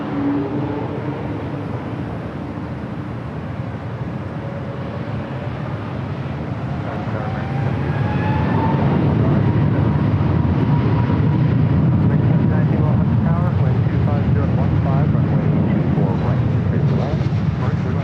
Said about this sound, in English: This takeoff is Delta Airlines 311 taking off to Kailua, Kona on the A321neo.